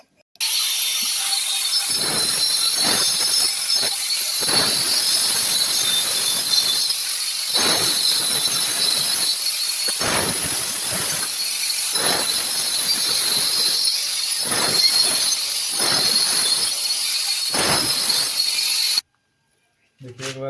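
Wall chasing machine cutting a groove into a brick wall on a second pass, a loud continuous grinding whine with repeated rough bursts as the blade bites, running steadily for about nineteen seconds before stopping.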